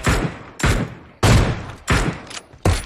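Gunfire in the mobile shooter PUBG Mobile: six sharp, loud bursts in quick succession, each cracking in and tailing off, close and punchy with no talk over them.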